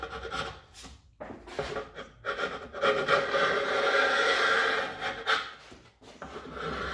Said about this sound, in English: Either just get your chisel and just slide it forwards. Just make sure you don't dig into the MDF.